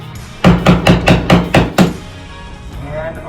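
A Phillips screwdriver is tapped into drywall to make holes, giving six close, evenly spaced sharp knocks in quick succession.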